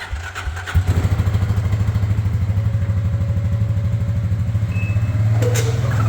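A Gen 3 Can-Am Outlander ATV fitted with Apache 360 LT tracks backs out. Its engine idles with a close, loud, rapid chugging throb that holds steady for several seconds, with light clatter and a brief mechanical squeal near the end.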